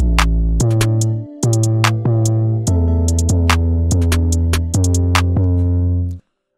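Programmed 808 bass pattern in a beat, deep booming sustained notes stepping through a rhythmic sequence with short gaps, layered with bright percussive hits, loud and alone before cutting off cleanly.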